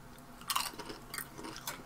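Crunchy sweet potato chips being chewed close up, a few sharp crisp bites and crunches in quick succession in a quiet setting.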